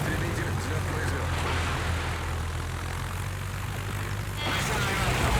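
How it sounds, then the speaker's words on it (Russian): A steady fighter plane engine drone in the video game World of Warships holds throughout, loud and continuous, with a rising roar near the end as the plane takes off from an aircraft carrier. "Истребитель взлет произвел."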